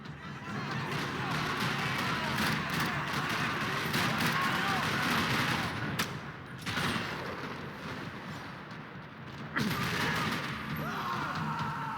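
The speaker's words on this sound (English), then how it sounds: "Another parking lot rattling with gunfire." Dense, continuous gunfire crackles through a noisy Max Payne 3 game soundscape in a parking lot, with a few brief drops and sudden bursts of louder shots.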